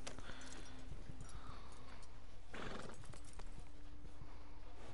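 A video game horse whinnies loudly while its hooves clip-clop in a quick, uneven rhythm, with a low steady game hum underneath.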